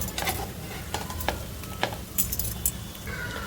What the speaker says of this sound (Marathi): सगळे मी पलटून घेते आता एक एक बटाटा